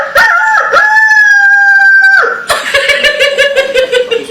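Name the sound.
voice imitating a rooster crowing at 4 am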